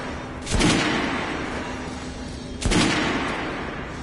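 Two heavy gunshots at a shooting range in Metro: Last Light, about two seconds apart, each a sharp loud crack followed by a long, rolling reverberant tail.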